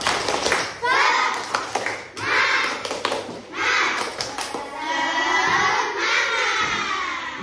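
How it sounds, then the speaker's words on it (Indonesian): Children in a classroom clap a rhythmic cheer clap together, loud patterned bursts mixed with chanting voices and classroom chatter. "Tepuk semangat."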